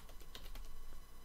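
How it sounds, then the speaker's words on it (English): Keystrokes tapped on a computer keyboard while entering a line of Python code in Blender, a quick run of close, crisp clicks with no talking. "So then in between here, I'm going to type"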